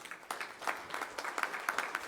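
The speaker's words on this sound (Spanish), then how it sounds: "pido un aplauso para Nayeli Ramírez" Scattered, moderately faint clapping from a forum audience on education and the social fabric, a light patter of hands continuing throughout.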